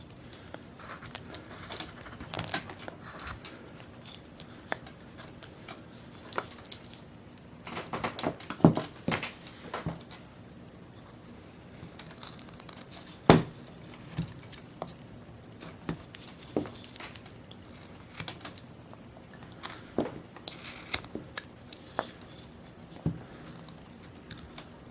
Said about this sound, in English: We're cutting back the wood to bring the shoulder back a little bit.